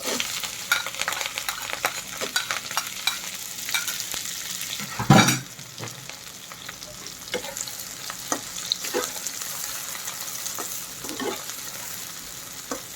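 Chopped onion and green chilli fry in hot oil for a mutton and potato curry. A loud, continuous sizzle runs throughout, broken by repeated scraping stirs and one heavy clatter near the middle.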